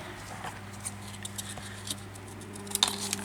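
Scissors cutting paper for handmade journal making with lace and vintage materials, a few soft snips and crisp rustles over a faint steady background hum, close and quiet.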